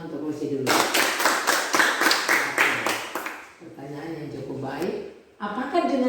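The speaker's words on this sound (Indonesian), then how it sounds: "Coba sama tepuk tangan untuk Rosie dulu." Primary school class clapping hands in a religion lesson, a rhythmic run of about a dozen quick, sharp claps from a small group, followed by a teacher talking.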